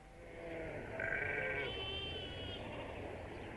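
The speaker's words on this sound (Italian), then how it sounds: "stare a guardare le pecore che brucavano l'erba dal mattino alla sera" Sheep bleat in a wavering, sustained call over a steady outdoor background hiss, one bleat overlapping into a higher second voice, moderately distant and without talking.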